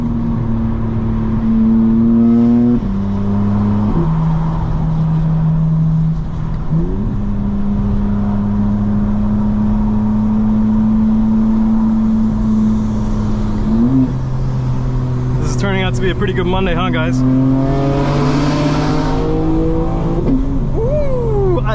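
A 2024 BMW M4 Competition xDrive with an upgraded exhaust revs hard up toward redline, its engine note climbing, dropping on each shift and climbing again in steady waves, loud and close from inside the cabin, while someone briefly talks over it.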